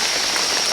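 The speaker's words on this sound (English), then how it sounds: "It started pouring during our visit" Heavy rain pours steadily on Saipan, a dense, constant hiss of drops striking surfaces, loud and close with no pauses and no voices.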